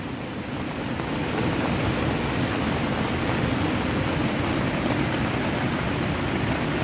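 Steady, loud rain pours down at a highland campsite alongside an overflowing mountain stream, a dense continuous hiss and rush with no pauses.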